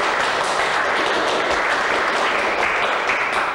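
A studio audience on the French game show Des chiffres et des lettres breaks into sustained applause for the hosts, a loud, even roar of clapping from start to finish.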